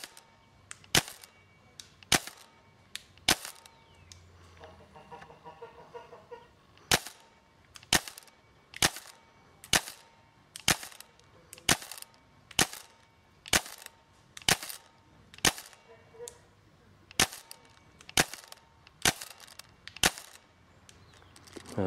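Tippmann M4 airsoft rifle firing test shots at a tree about 40 metres away outdoors: sharp, evenly spaced single cracks, roughly one per second, loud and close against a quiet background.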